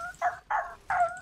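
A dog barks three times in SMITE, a 3 vs 3 match game, with sharp, evenly spaced barks standing out clearly and loudly, with no talk over them.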